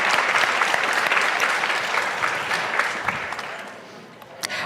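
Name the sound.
audience applauding Amy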